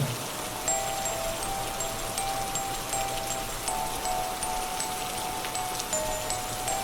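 Steady rain falls in a Bengali ghost cartoon set at the Goldighi pond, a soft continuous patter with faint high tinkling tones running through it.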